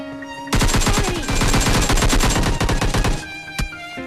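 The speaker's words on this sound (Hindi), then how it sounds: "बिना बताए हमारे ऊपर गोली चला देते हैं" Rapid automatic gunfire in a video game, a loud sustained burst of closely spaced shots lasting nearly three seconds, followed by a single sharper shot after a short pause.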